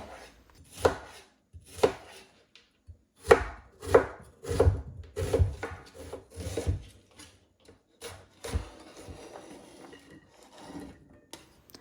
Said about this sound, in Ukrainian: Нарізаю цибульку також кубиком.